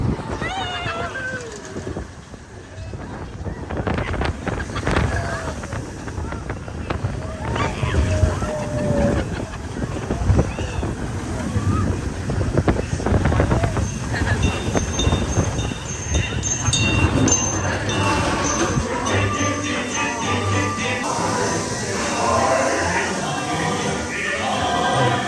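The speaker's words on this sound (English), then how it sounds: "Here we go. Seven Dwarfs Mine Train." The Seven Dwarfs Mine Train roller coaster at Magic Kingdom rumbles and clatters along its track, a loud continuous ride noise mixed with passengers' voices and rushing wind.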